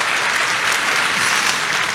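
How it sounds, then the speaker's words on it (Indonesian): A church congregation bursts into loud, dense applause during a sermon. The clapping is close and steady and lasts about two seconds, with no voices over it. "Kasih tepuk tangan yang meriah untuk Tuhan Yesus."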